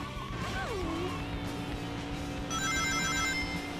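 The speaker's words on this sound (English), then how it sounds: "God, those rings are fucking loud." Sonic Adventure 2 video game sounds: chiming, bell-like ring pickups play amid a falling electronic tone and busy game effects, fairly loud over a steady music and noise backdrop.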